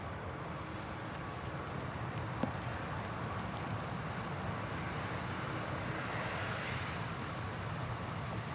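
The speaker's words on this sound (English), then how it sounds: "it is an Airbus A350 next to land" An Airbus A350 airliner comes in to land at Manchester Airport, a faint, steady distant engine rumble with wind noise, even and unbroken throughout, with no voices.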